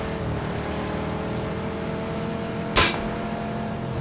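Vehicle engine in PUBG approaching at a steady low drone, with a sharp brief crash or impact near the end and no talking.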